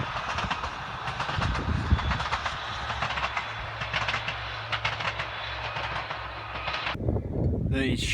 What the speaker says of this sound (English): Train, Scottish Rail.